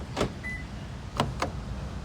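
A 2020 Perodua Bezza 1.3 Advance locking from the black button on the driver's side door handle: a short mechanical whir from the door lock actuators, followed by two quick clicks, faint against quiet outdoor background.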